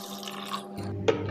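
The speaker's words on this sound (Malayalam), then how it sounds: "ഇനി ഇതിലേക്ക് നമുക്ക് ആവശ്യത്തിന് വെള്ളം ഒഴിച്ചു കൊടുക്കാം" Water poured into a squeezed lemon juice mixture for a cucumber-lemon juice: a short, soft liquid trickle with a brief glassy splash near the end, quiet and close.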